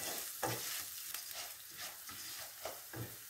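Rice stir-roasting in a hot pan while artichokes are being prepared, giving a steady close sizzle with soft scraping stirs at a loose rhythm, no voices.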